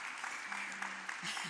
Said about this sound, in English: So we should give her a clap on that one.